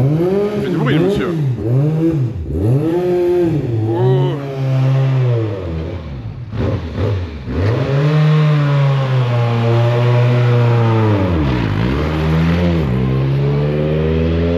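During a circuit track day, a car's engine revs repeatedly, sweeping up and down in pitch with loud, close blips and a longer sustained howl, while people talk nearby.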